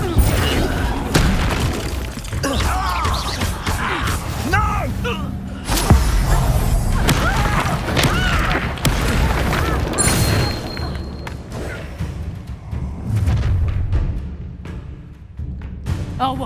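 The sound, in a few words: spell blasts in Hogwarts Legacy video game: Stupefy, Accio, Incendio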